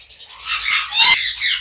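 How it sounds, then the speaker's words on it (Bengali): Lovebirds chirp and squawk in a bright, rapid flurry of high calls, loud and close, at a bird market in Tongi Bazar, Bangladesh, with no talking. "এখানে রেড এর অপার লাইন লাভবার পাখি আছে"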